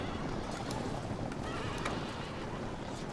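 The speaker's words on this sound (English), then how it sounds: "My cavalry unit runs through and gets shot and 2 horses die for no reason" Cavalry horses in a Medieval video game battle recreating Hastings thunder along with a steady clatter of hooves, with whinnies and neighs rising above the busy, loud din of the charge.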